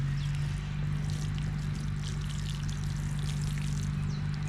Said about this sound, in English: Let me go ahead and water this first before I do that.